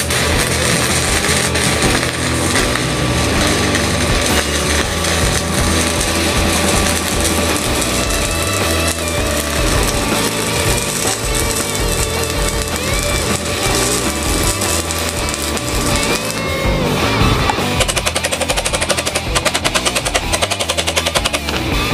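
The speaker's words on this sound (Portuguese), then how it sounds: "Aqui eu só vou fazer uma solda para vocês pegarem mais ou menos a máquina, ver o jeito dela" An electric inverter welder, a Trato Tin 160, lays a bead on metal with a dense, continuous crackling sizzle that stays loud and steady for the whole stretch, with no talking.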